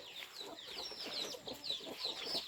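Chickens cluck and chirp close by while a grandmother feeds her ducks and chickens at dusk on a rural farm, a busy run of short overlapping calls with no talk.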